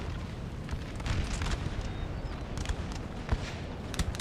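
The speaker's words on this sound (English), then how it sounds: "yeah, this artillery I guarantee you is helping" Distant artillery booms in a Napoleonic Total War 3 battle, a dull rumbling wash with scattered muffled blasts and pops over a constant low roar of battlefield noise.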